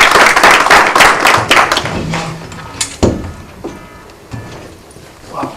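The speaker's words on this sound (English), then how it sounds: "Let's give a round of applause for our next speaker" Audience at a community forum applauding a speaker, dense clapping that starts loud and thins into scattered, fading claps over several seconds.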